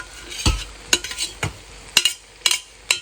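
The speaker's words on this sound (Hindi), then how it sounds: "अब जो है इसको मिक्स कर लेते हैं अच्छे से" A spoon stirs and mixes food in a frying pan, giving about six sharp scraping, clinking strokes in a steady rhythm over a faint sizzle, close by with no voices.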